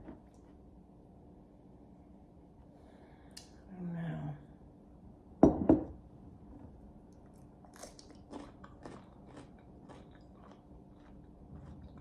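A piece of English cucumber is bitten with a sharp crisp snap, followed by several soft, wet crunching chews close to the mouth, with a short murmur before the bite.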